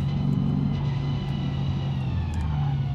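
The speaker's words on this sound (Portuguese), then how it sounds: "Olha o barulho aí da nossa transmissão forjada de corrida." A steady mechanical drone from a forged racing transmission in a supercharged V8 drift car in BeamNG.drive, with a low rumbling hum and a faint rising whine, continuous and fairly loud, with no talking.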